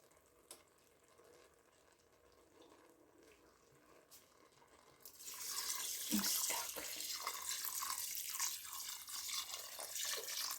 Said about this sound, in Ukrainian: заливаю водичкою.